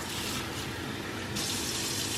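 Tap water runs steadily into a measuring cup while a child makes salt dough ornaments for a family Christmas craft, a continuous close gushing that grows brighter partway through, with no one speaking.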